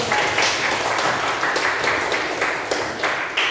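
A school class bursts into applause after a lesson on HIV/AIDS, many hands clapping in a dense, even patter that swells slightly in waves and holds steady throughout, with no talking over it.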